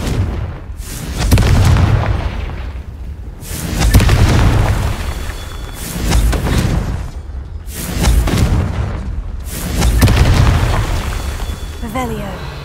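Confringo spell blasts in Hogwarts Legacy, a series of about five deep booming explosions that swell and fade in repeating waves, loud and close, with a voice talking between them.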